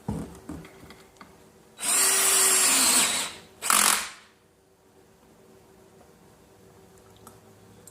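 A power drill drives a bolt during assembly of an Alera Elusion office chair, with a sustained whir of just over a second, a brief pause, then a shorter burst before quiet.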